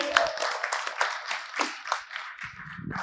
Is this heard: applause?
yes